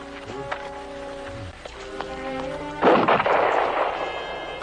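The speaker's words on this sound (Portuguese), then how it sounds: "Peguem suas armas e atirem! Atirem!" Gunfire on a dubbed Zorro episode as guns are fired at Zorro: a loud booming shot crashes in after several seconds of tense orchestral music and rumbles on beneath it, with no talking.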